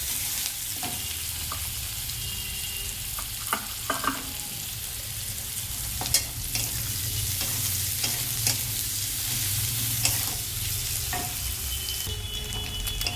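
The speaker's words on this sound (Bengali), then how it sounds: "এবারে তেলের মধ্যে দিয়ে দেবো পেঁয়াজটা পেঁয়াজটা ভাজা ভাজা হয়ে গেলে তারপরে দেব মশলাটা" Sliced onion frying in hot oil in a pan, a steady close sizzle with occasional stirring clatter and no talking.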